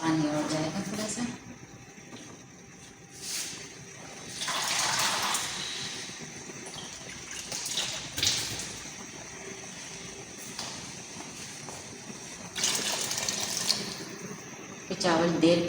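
Water is poured into a pot of soaking rice for chicken pulao, a faint splashing stream that comes and goes in a few bursts amid kitchen background noise.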